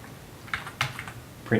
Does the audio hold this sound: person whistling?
no